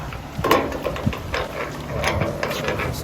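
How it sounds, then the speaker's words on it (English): Ratchet loosening bolts on a louvered pergola beam, giving a series of close, irregular metallic clicks and short turning bursts over a faint background hiss. "So these 4 bolts need to be loosened with this"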